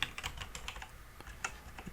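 Quick, light keystrokes on a computer keyboard while a backup node name is typed, a close, fairly quiet run of irregular clicks with short gaps and no talking.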